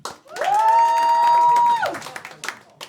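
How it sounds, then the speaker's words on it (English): At a comedy gong show, the audience answers for comedian Roddy Golden with one long sustained whoop over scattered clapping, then thinning claps and a few calls. "Clap and cheer if you thought Roddy Golden won."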